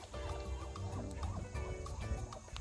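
Ducks at a fishing pond call in a noisy flock, with repeated overlapping quacks and honking cries, close and fairly loud, with no talking.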